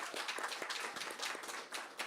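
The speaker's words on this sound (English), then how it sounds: "Let's give Weinberg a big round of applause." Faint, steady applause from a crowd at a mayoral announcement in Baltimore, dense clapping without a break.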